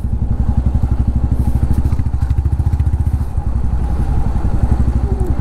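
A motorcycle engine thuds in a fast, steady low pulse close by, passing through the small side bike lane at a toll gate on a solo ride.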